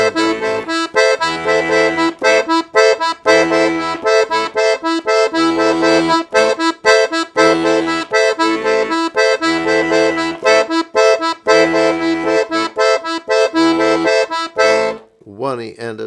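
Piano accordion playing a samba groove, the left hand sounding a surdo bass pattern and the right hand a tambourine-style chord pattern, loud and close in a bouncing, steady rhythm, with a short breathy bellows sound near the end.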